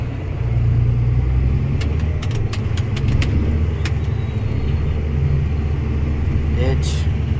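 A tractor pulling a bedding bar through a corn field gives a steady, loud engine rumble that runs throughout, with a few faint clicks partway through.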